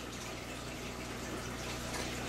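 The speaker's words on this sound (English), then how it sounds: "You're going to dispense that into your test vial." Two milliliters of water dispensed into a small test vial for a magnesium test, a steady faint trickle of liquid running continuously with no speech.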